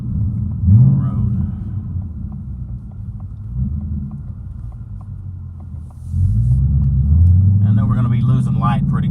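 A 2019 Ford Mustang Bullitt's engine rumbles low through a U-turn, then swells to a louder, deeper growl as the car pulls away. Someone talks over the engine noise near the start.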